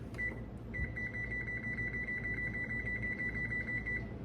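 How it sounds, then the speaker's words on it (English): A kitchen timer sounds a rapid, steady train of high electronic beeps after a brief button chirp, running continuously at close range over a low room hum while a tart bakes. "let me set a timer here"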